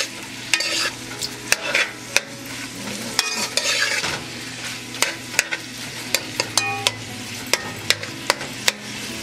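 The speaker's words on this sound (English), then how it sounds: "So y'all can hear a little sizzle there." Steady sizzle of shrimp curry in a pan with repeated sharp clinks of a utensil stirring against the pan, continuing throughout.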